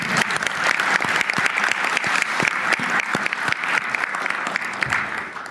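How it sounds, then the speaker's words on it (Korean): Audience applause fills a formal event hall at a Korean presidential gathering, dense clapping from many hands, loud and sustained for several seconds with no talk over it. "잘 만들었는데 박수라도 한번 치워야지."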